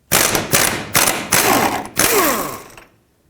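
An 18mm socket and wrench work a control arm bushing nut on a 2007–2009 Saturn Aura, giving five loud, close bursts of rapid ratcheting and clattering metal, separated by short pauses, ending with a faint decaying tail.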